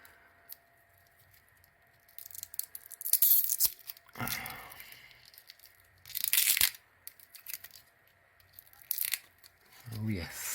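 Protective stickers peeled off a new Steinhart Ocean 2 watch, heard as a few short bursts of tearing and crinkling, close and fairly quiet, with pauses between them and a little talk.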